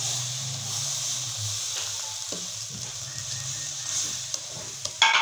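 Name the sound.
milk poured into sizzling suji and egg halwa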